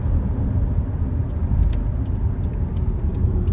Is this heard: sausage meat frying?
no